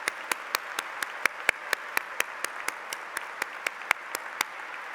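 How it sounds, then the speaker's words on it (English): A graduation ceremony audience claps for families, sharp evenly spaced claps repeating steadily over a diffuse bed of softer clapping, moderately loud and without speech. "I'm sure you would like to join me in giving them a warm round of applause"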